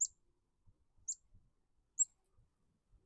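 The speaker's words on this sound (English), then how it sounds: "Ooh, there's a bird." A small bird chirps outdoors in rattlesnake country, giving three faint, sharp, isolated chirps spaced about a second apart in otherwise quiet surroundings.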